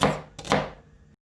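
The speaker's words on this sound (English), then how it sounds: "And then we're going to dice it like this" Knife dicing celery on a cutting board in a home kitchen, a few quick close chops with a sharp thunk and a brief pause between strokes.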